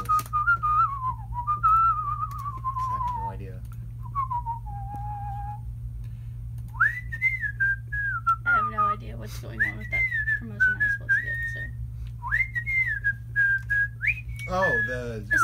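A person whistles the rooster tune from Robin Hood, a clear melodic line of sliding, wavering notes in short phrases with pauses between, up close over a steady low background hum.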